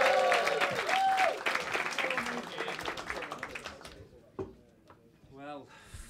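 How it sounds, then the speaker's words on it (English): Sustained audience applause at a comedy club, dense and loud with cheers and whoops, tapering off after about four seconds into quieter scattered sounds and a brief voice. "keep that applause going"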